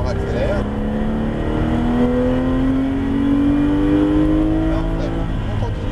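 A Porsche GT3 accelerates hard on a track, its engine a loud, continuous drone that climbs steadily in pitch from inside the car.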